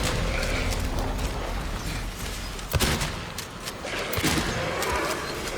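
Gunfire rings out in the Silent Hill 2 Remake video game, with a few sharp shots standing out over a dense, loud and steady layer of game noise.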